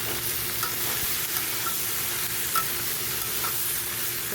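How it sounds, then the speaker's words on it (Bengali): Bottle gourd with spices and hilsa fish head, stirred in a pan, gives a steady close sizzle broken by soft scraping stirs, with no voices. "লাউটা দিয়ে কিছুক্ষণ এটাকে ভালো করে মিশিয়ে নিতে হবে সব মশলাগুলোকে।"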